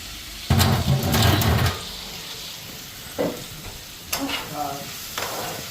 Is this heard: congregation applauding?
no